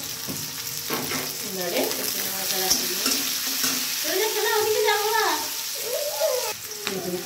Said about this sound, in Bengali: পেঁয়াজটা সুন্দর করে ভেজে নিয়েছি।